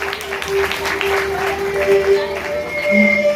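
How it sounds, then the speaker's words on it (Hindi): Audience clapping at a staged Jain play about a queen and king, steady applause mixed with sustained musical tones. "तालियां"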